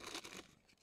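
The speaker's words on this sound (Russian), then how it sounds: "Пакетик дрожжей берем." Crinkly tearing and rustling of a small packet of dry yeast being handled, one short burst that fades quickly, close and fairly quiet.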